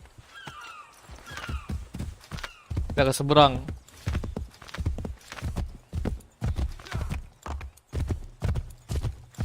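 Horse in the video game Assassin's Creed 3 Remastered, its hooves clip-clopping in a steady walking rhythm, close and loud, with a whinny early on and a person speaking briefly.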